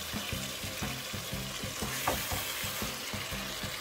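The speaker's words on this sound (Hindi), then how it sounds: "मैं अब डिश आउट करती हूँ इसको" Mutton masala in a pan, thick with tomato, ginger and spices, being stirred and scooped out: a rhythmic, repeated scraping and stirring over a continuous sizzle, close and steady.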